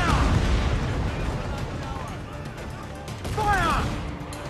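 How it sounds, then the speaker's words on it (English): Heavy booming mortar and cannon fire during a naval battle in Assassin's Creed IV: Black Flag, several deep blasts rolling one after another, loud and close, with someone talking over the barrage. "Mortars. Bane of my existence."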